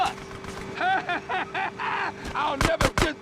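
Explosions in GTA San Andreas gameplay burst out as several sharp, loud booms near the end, following a stretch of game chatter and voices.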